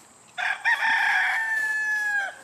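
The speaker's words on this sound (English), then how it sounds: "I don't know why this guy's crowing so much." A rooster gives a single long, loud crow close by in a backyard garden, rising at the start and holding a steady drawn-out tone before cutting off.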